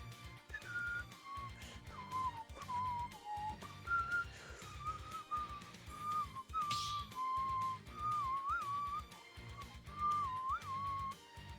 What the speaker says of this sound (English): I know, I'm whistling a little bit too much